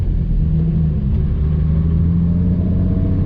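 A Jaguar MK2 drives along, its engine giving a steady low rumble with road noise that stays loud and even throughout, heard from inside or close by and with no voices.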